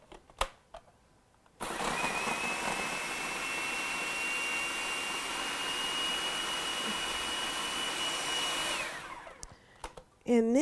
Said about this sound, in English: so we're just going to blend this together